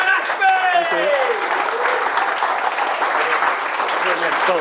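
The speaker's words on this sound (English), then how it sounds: "So, a round of applause for Dan Ashby" Audience applause for a speaker at a lightning talk event, a dense, steady wash of many hands clapping that fills the room at a constant level, with a few faint voices mixed in.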